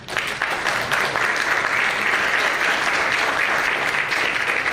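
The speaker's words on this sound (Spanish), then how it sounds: "Recibamos entonces con un fuerte aplauso a Rodolfo Óscar Tafur." Sustained, dense audience applause welcoming a lecturer to the stage at a talk event, loud and steady for the whole stretch with no break.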